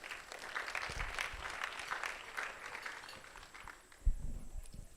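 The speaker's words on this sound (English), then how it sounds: "Let's give her a round of applause, everybody" A quiet, steady wash of audience clapping at an all-white jazz brunch program runs throughout, with a few louder thumps near the end.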